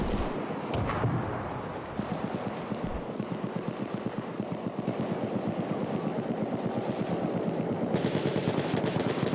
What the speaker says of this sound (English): Oh, he's shooting at Jake Frags.